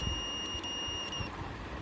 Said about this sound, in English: you can see buzzer is beeping